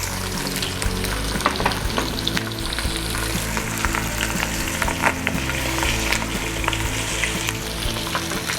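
Chicken pieces fry skin side down, crammed into a pan for a Creole dish. A steady, close sizzle and crackle with scattered pops runs throughout, with no talking.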